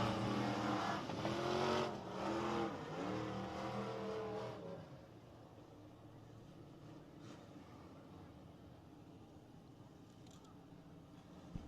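Race cars roar past on a speedway track at a heat race, engines loud and layered for several seconds, then fading to a distant, steady drone as the pack moves away.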